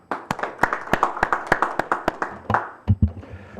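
Audience applause at a panel discussion forum, a steady run of sharp hand claps at a brisk rhythm, fairly close, tapering off near the end.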